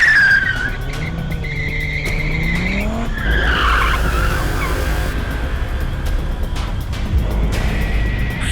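In a Hindi horror drama, a speeding car's tires squeal and skid in long, loud, wavering screeches over a steady engine roar, up close and without speech.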